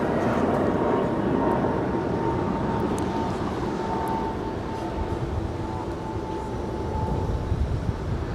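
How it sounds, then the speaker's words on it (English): An American Airlines Airbus A321neo departs Los Angeles International Airport, its jet engines a steady, broad roar with a faint whine that holds at an even level throughout. "This is American Airlines Flight 658 departing to Philadelphia. It's an Airbus A321neo."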